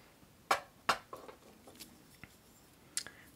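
A large spoon scoops loose jasmine tea in a few soft, quiet scraping rustles, two sharper crisp strokes standing out amid faint scattered rattles.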